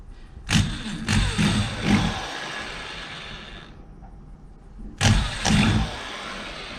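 A power drill boring a hole through a kayak hull: a whirring motor in two short runs, a couple of brief pulses, then a pause and a final burst, all close by.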